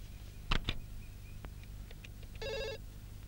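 A landline telephone gives one short electronic ring burst near the end, fairly faint, after a few soft clicks and handling knocks in a quiet room.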